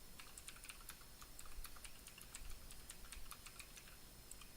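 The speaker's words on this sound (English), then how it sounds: "My keyboard's super fucking loud." Loud computer keyboard typing, rapid clattering keystrokes in quick uneven runs, close to the microphone and without talk.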